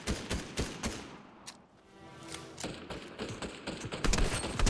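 Pistol gunfire in a shooter video game rings out in a rapid series of sharp cracks, with a short lull before more shots, fairly quiet overall.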